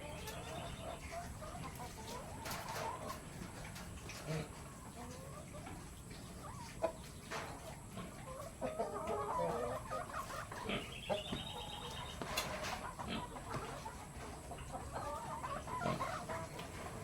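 Crossbred Dekalb Brown and Rhode Island chickens cluck in repeated short calls at a farm, fairly quiet and slightly distant, with faint background voices at times.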